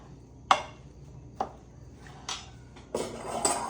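Salsa ingredients mixed in a bowl, with a few sharp utensil clinks against the dish followed by softer wet stirring and scraping, close and quiet, no speech.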